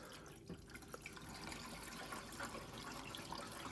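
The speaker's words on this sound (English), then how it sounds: "stick a load of water in" Water pours from a jug into a Bosch Classixx 6 1400 washing machine, a continuous faint splashing and trickling with small irregular drips throughout.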